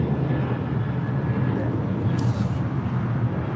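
A United Airlines Boeing 737-800 taking off from LAX bound for Washington Dulles, a loud, steady, broad jet roar that holds constant throughout.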